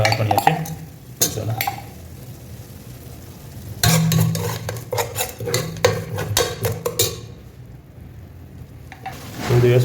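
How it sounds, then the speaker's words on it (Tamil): Masala for fish curry sizzles in hot oil while a spoon stirs it, with frying hiss and intermittent scraping and clinks of utensil against the pan, close and fairly loud. "அந்த எண்ணெயில் நல்லா கொஞ்சம் மசாலா கொஞ்சம் நல்லா பிடிக்கணும்"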